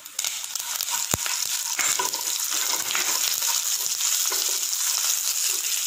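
Mustard seeds and curry leaves crackling in hot oil as a tempering for dhokla, a dense continuous sizzle with one sharp early pop, steady and close, no voices.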